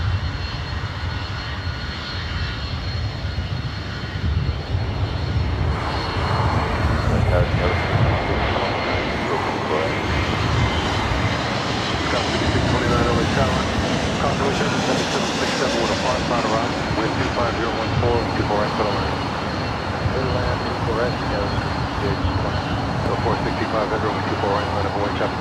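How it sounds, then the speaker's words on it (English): A JetBlue Airbus A321 jet at LAX airport roars steadily for the whole stretch, a loud sustained engine rumble with swelling and fading tones as the aircraft moves, while voices talk faintly in the background. "Maybe JetBlue A321 up next."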